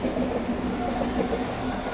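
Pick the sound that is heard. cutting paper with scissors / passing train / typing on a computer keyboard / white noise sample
passing train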